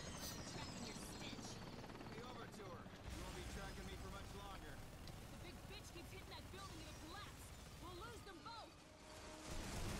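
Helicopter in the video game Bulletstorm, a steady rotor drone running throughout under lively talk from players, with gunfire-like bursts and crashes mixed in.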